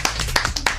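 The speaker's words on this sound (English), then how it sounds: "We need a round of applause," Several separate, sharp hand claps ring out in quick succession from a small group at a high school youth event, sparse rather than a full ovation.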